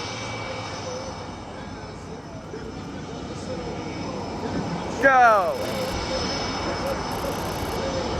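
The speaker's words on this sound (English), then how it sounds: "The plane's way out front." A fixed-wing plane flies overhead at an airshow, a steady engine drone that surges into a loud pass about two-thirds through. Someone shouts briefly over it and crowd chatter runs underneath.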